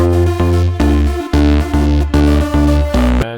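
Short, punchy square-wave synth lead from a Serum preset plays a simple melody of clipped notes in steady rhythm over a beat, loud and upfront, with no talk.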